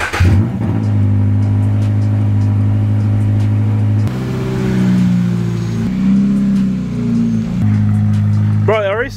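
A boosted Toyota GR86 with a swapped exhaust idles loudly close by, its engine note shifting as it revs and settles, with people talking over it.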